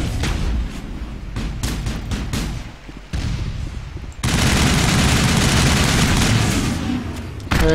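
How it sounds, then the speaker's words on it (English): Sniper rifle fire rings out in the sci-fi shooter Mass Effect: a string of sharp, loud shots that gives way to a dense, sustained roar of battle noise ending with a final crack. "This thing's basically a sniper rifle."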